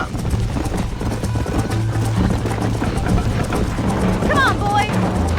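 Galloping horse hooves in the video game Red Dead Redemption, a rapid, steady clip-clop rhythm up close, with a brief whinny near the end.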